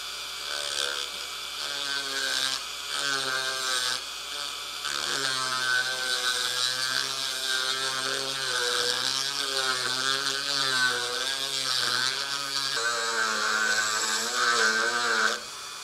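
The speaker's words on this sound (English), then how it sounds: "So I've got it hooked up into a Dremel. We're just going to slowly enlarge the thing." A Dremel rotary tool hollowing a wooden kalimba body on a lathe, the hand braced on the tool rest, gives a steady high whine with wavering pitch that runs continuously and loud throughout.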